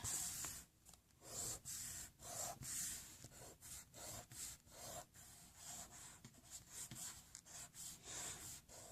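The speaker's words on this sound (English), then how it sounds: "Right now I'm gonna take my eraser and I'm going to erase this." A pencil eraser scrubs back and forth across a pencil drawing of a squid on paper in quick repeated strokes, a faint close rubbing with an irregular rhythm and no voices.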